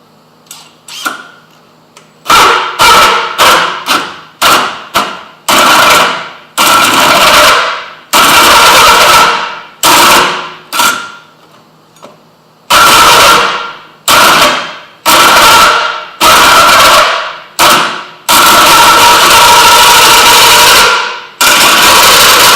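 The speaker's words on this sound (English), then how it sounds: "I'm going to take the Milwaukee hole saw with this super powerful drill" A Milwaukee hole saw on a powerful drill cuts a hole in repeated loud, close bursts of whining, grinding drilling. The bursts are separated by short pauses, grow longer toward the end and finish in a long sustained run.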